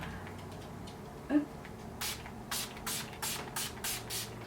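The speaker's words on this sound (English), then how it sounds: "I'm gonna use the Urban Decay All Nighter Makeup Setting Spray." Several quick, hissing sprays from an Urban Decay All Nighter makeup setting spray pump bottle follow one another in a steady rhythm, close by, after a soft click.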